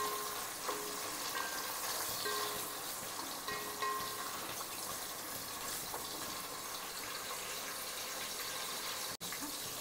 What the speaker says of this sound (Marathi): तर टोमॅटो पण आपण चांगला भाजून घेऊया तेलामध्ये।